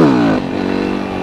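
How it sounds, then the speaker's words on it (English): A motorcycle engine revs briefly and drops off into a steady idle-like rumble, close and loud, during slow wheelies on a bike with a fresh tire that leans to the right. "Now I'm doing a lot of slow wheelies and my bike leans to the right."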